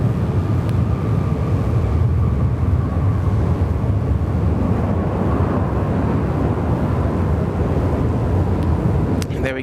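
An Emirates Airbus A380 airliner comes in to land at Sydney Airport, a loud, steady broadband jet roar held throughout at close range.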